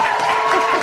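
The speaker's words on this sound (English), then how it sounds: "Applause." A short burst of crowd applause on a business radio show, a brief, loud, even wash of clapping with no clear speech on top.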